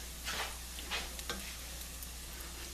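Sweet potato and fish patties sizzle steadily in a frying pan as they brown, a soft, even hiss broken by a few brief louder crackles, heard up close and quiet with no talking.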